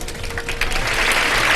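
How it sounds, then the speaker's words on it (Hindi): Audience applause for a contestant on a live Ramadan iftar TV show, a dense steady wash of clapping that swells slightly and holds for under two seconds with no talk over it. "बहुत सारी तालियां बजा दें इनके लिए"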